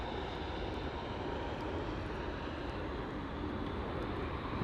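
An Airbus A320neo jet takes off at London Heathrow, its engines a steady, loud, close roar that holds throughout and swells slightly at the end.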